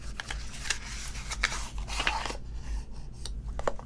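Tarot cards are shuffled by hand in a continuous soft, papery riffling and rubbing with short crisp snaps, close and fairly quiet, with no talking.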